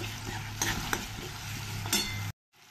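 Onion with ginger garlic paste frying in a pan, a steady sizzle under a few sharp scrapes and clinks of a stirring spoon, ending abruptly in near silence.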